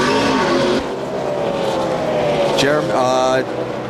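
NASCAR stock car number 9 pulling away from pit road at the 2004 Tropicana 400, engine roaring loudly and rising in pitch, with another car whining past, all under continuous commentary.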